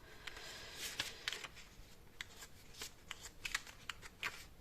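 Unnumbered tarot cards being flipped through and handled at close range, a run of quick crisp card snaps and shuffles with brief pauses between them, no voices.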